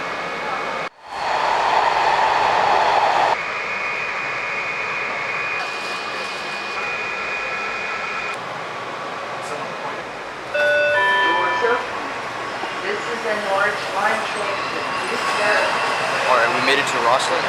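A DC Metro train at Vienna, Virginia station, with a loud steady rumble and whine of the train close by, then shifting tones and higher electric whines as it moves, with no one speaking.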